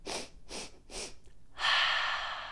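Children imitating bunnies by wiggling their noses and sniffing during a kids' yoga class: three quick, close sniffs in a steady rhythm, then a longer rushing breathy sound, with no talking.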